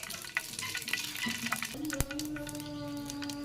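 Fenugreek seeds frying in hot oil give a steady, close crackling sizzle with a few sharp pops, with no talking over it.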